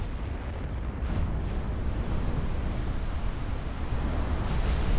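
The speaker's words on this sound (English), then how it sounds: "Now all the big guns focus down the battleship, which is close into 13 kilometers." Big battleship guns firing in the naval warfare game Ultimate Admiral: Dreadnoughts make a continuous, heavy, rumbling barrage of overlapping booms, loud and sustained with no clear gaps.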